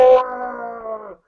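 A man imitates a werewolf's deep-throated roar with his voice during a Werewolf: The Dark Ages tabletop session, one sustained rumbling, tonal growl lasting about a second, close and loud, alone.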